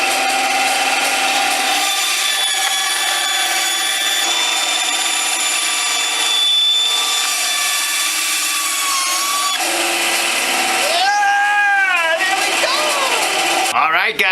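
A noisy power saw cuts through a Ziera Allsorts shoe, a loud, close, continuous rasping whine with shifting squealing tones as the blade works through the material, a voice heard briefly.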